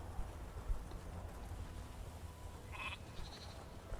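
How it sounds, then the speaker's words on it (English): Goats bleating in the video game Elder Scrolls Online, a couple of short, faint bleats against a soft, rain-like background hiss. "Hello, goats, and goodbye."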